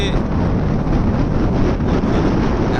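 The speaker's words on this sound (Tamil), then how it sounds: "காத்து சரியான காத்து," Strong wind buffets the microphone at sea from a fishing boat during rough conditions, a steady loud broadband roar that continues without break.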